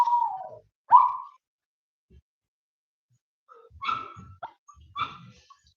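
A dog behind a hedge gives a few sharp barks and yips, then a cluster of whimpering barks after a quiet pause, heard at moderate distance against silence with no talking.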